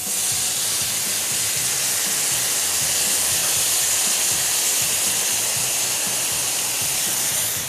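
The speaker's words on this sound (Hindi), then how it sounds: "आपको भी दिखाएं कि थोड़ा सा सिजलिंग तो होना चाहिए।" Crispy beef chili sizzles loudly on a hot sizzler plate, a dense, continuous hiss that stays at a steady level from start to finish with no talking.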